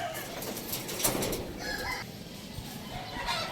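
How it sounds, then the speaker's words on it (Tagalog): Racing pigeons arriving at the loft, with bird calls and fluttering wing sounds over a busy, steady outdoor background noise. "Wala, dumating na ibon natin."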